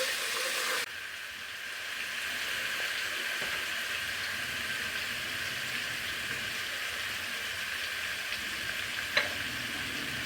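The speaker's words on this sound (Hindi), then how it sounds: "और इसको डाल के फ्राई करेंगे ताकि इसका कच्चापन ख़त्म हो जाए" Ingredients frying in a pan for an aloo palak dish, a low, even sizzle that holds steady for several seconds, faint and alone, with one brief clink near the end.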